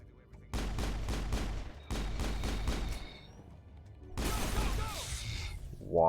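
Rapid pistol shots from the Mass Effect video game ring out in two quick bursts of evenly spaced cracks, then a heavier crashing blast and a rising whine follow, loud and without talk.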